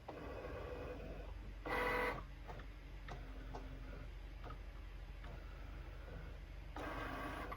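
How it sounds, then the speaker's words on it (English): A cutting machine scans for registration marks on a printed sheet, giving quiet faint ticks and soft whirs over a low hum, with two brief louder mechanical bursts near the start and end. "the light is going to start looking for the markers to cut"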